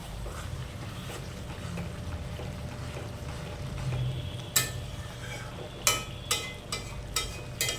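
A hilsa fish head and green banana curry simmers in an open pot with a low, steady bubbling hiss, joined near the end by a few sharp, close clinks of a utensil.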